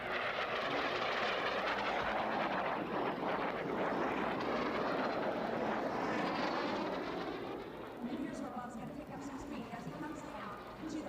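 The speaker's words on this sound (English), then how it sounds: "Let's listen to him as he comes by our pylon." An L-29 jet racing plane passes a pylon at an air race in Roswell, New Mexico, with a loud, sustained engine roar that shifts in pitch as it goes by. A commentator talks underneath.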